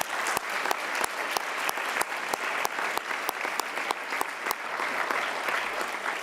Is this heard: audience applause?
yes